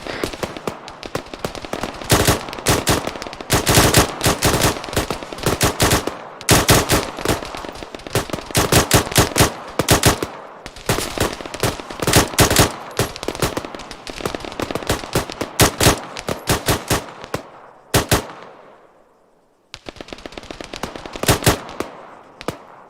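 Rapid gunfire during airborne infantry training, loud and close: dense strings of sharp shots in bursts and single cracks, with brief gaps, a fading echo near the end, then more shots.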